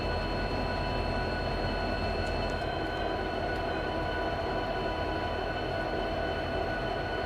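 Several locomotives in a video game rumble continuously, a steady rail rolling drone with a faint high whine, moderately quiet and without speech.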